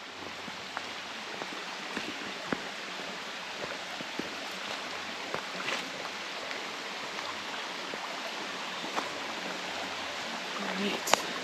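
A creek runs at a trail crossing in State Game Lands 221, giving off a constant close rushing burble with faint scattered splashes and no talk.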